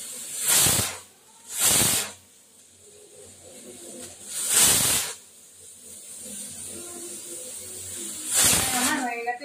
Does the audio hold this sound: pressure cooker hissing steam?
yes